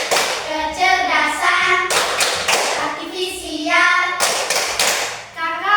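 A team claps a rhythmic pattern during a group chant, sharp clustered claps and thumps falling in regular beats between bursts of chanted and spoken voices.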